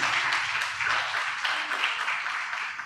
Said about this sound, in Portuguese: Aplauda mesmo se for para Jesus.